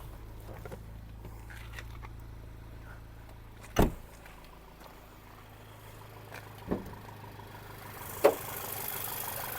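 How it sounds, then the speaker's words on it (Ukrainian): A Volkswagen Passat with automatic transmission idles steadily with a low, even engine hum and stable revs, broken by a few brief clicks or knocks; no voices. "Двигун працює гарно, оберти не плавають"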